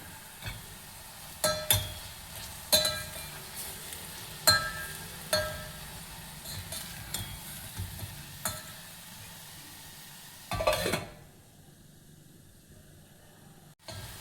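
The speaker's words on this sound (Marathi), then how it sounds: "आलं लसणाची पेस्ट पण तेलात झालेली आहे" Ginger garlic paste frying in oil in a pan, a soft steady sizzle broken by sharp clinks and scrapes of a spoon stirring at irregular intervals, then a brief louder stir before the sizzle drops away.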